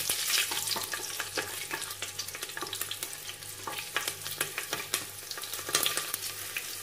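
Dried and green chillies splutter and fry in hot tempering oil, a dense close crackle and sizzle with sharp popping bursts scattered throughout.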